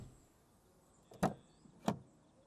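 Two solid thuds from the doors of a Mercedes A-Class shutting, about half a second apart, both close and fairly loud against a quiet background.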